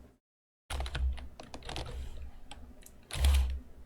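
Rapid clicking keystrokes clatter on a computer keyboard after a brief silence, with a dense burst of key taps near the end and a dull thump or two underneath.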